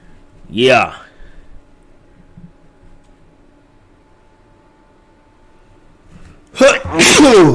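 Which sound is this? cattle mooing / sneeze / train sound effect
sneeze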